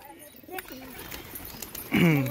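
Pigeons being handled at a fancy-pigeon loft, soft rustling and faint flaps, then a loud, close throaty coo near the end, with people talking nearby.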